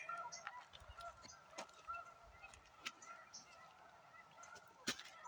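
Snow geese flying over a wildlife refuge, giving scattered honking calls at a distance against an outdoor background, with a few louder calls standing out.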